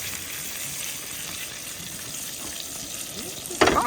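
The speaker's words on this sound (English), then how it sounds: "Sauteed worm and a little butter." A worm sautés in butter in a pan over low heat, giving a steady, close, soft sizzle throughout, with a sudden brighter clatter or splash at the very end.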